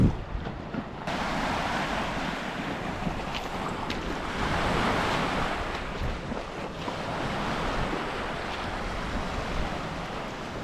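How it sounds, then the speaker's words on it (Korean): Waves washing steadily onto the shore of Lake Baikal, a broad continuous surf rush that swells and eases, heavy wind buffeting the microphone, no voices. "바다도 아닌데 파도가 칩니다."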